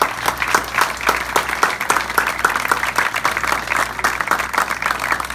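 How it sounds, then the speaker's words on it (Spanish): Audience applause for a city mayor at a public transport route launch event, a steady dense patter of many hands clapping throughout, moderately loud and continuous with no talk over it. "Le pido antes de nada un aplauso para él."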